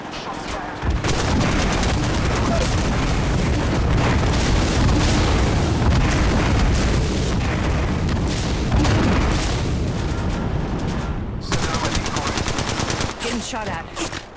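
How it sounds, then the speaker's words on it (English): Sustained automatic gunfire and heavy booming shots from the mobile battle-royale game Apex Legends Mobile, loud and nearly continuous for the whole stretch, with brief lulls and a sharper burst near the end. "Getting shot at."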